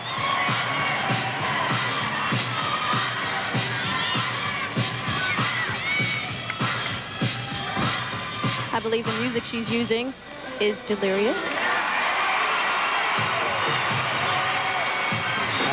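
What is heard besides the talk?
gymnastics arena crowd cheering and roaring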